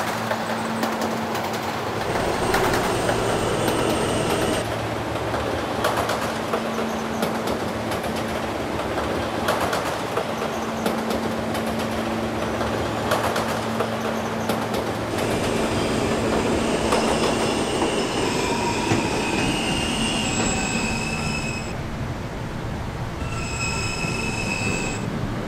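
An R160 subway car on the K line rumbles between stations, its wheels squealing and grinding continuously with steady clickety-clack over the rails and sustained metallic tones, loud and close from inside the car.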